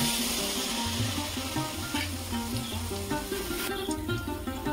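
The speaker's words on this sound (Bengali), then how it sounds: "কড়াইতে তেল গরম হয়ে গেছে, এবার আমি এইভাবে দিয়ে দেবো।" Pua pitha batter poured into hot oil in a wok sizzles steadily, a bright frying hiss running throughout alongside soft background music.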